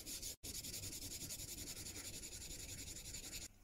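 A Marples Gold Chip chisel from the 1980s being lapped flat on its back across 1000 grit abrasive, a steady close scratchy rubbing that runs almost without pause, with one brief break near the start.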